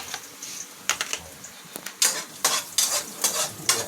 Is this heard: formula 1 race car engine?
no